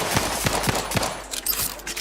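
Gunfire in Outer Worlds 2 cracks out as a quick string of loud shots, evenly spaced at first and then scattered, over a dense noisy combat background.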